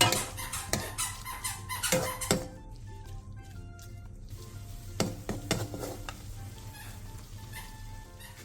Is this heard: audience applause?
no